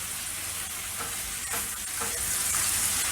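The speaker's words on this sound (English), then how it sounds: "Can just keep stirring this up while this is softening up some more." Food fries in a pan while it is stirred, a loud, steady sizzle with soft scraping strokes, close up and without voices.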